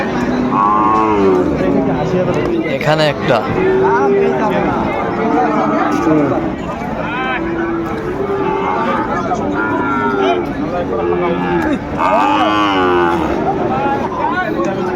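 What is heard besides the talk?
Sahiwal cattle mooing at a cattle market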